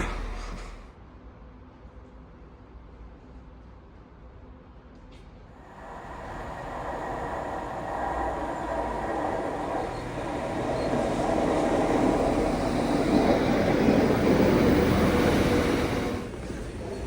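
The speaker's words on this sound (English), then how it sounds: "is that a train in the station? It sounds like it." A train rumbles through a West Yorkshire railway station, its low roar and hiss swelling after a quiet start and staying loud and steady to the end.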